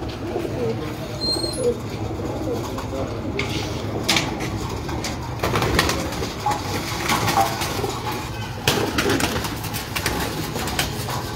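Breeder pigeons coo softly and repeatedly at close range on a rooftop, with a few sharp clacks and shuffling noises in the background.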